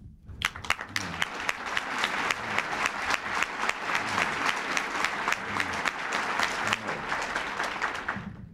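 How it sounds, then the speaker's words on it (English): An audience at the National Fraternal Congress of America breaks into loud, sustained applause after a speech by President Reagan, a thick continuous patter of many clapping hands from start to finish. "I think you owe yourselves a round of applause"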